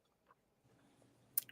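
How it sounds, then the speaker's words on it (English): A small dog chewing on a rawhide while sitting in a lap, giving quiet, close-up gnawing and squishy bites with a sharper crunch near the end of the brief clip. "it is my little dog, and he's sitting in my lap, happily chewing on a rawhide"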